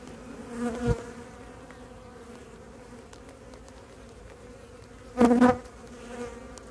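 Honey bees buzz steadily around an open hive during an inspection, a low continuous drone with two louder close passes, one early and one near the end.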